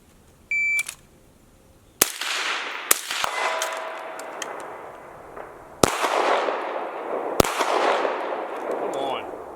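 Pistol shots from a timed shooting drill, several sharp loud cracks spaced a second or more apart, each trailing off into a ringing echo, after a brief electronic beep from a shot timer.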